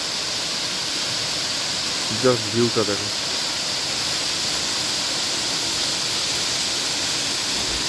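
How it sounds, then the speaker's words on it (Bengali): Constant loud roar of rushing water from Hima Falls, a waterfall in North Bengal during the monsoon, fills the air without letting up; a person speaks briefly partway through. "ফলসটার নাম হিমা ফলস"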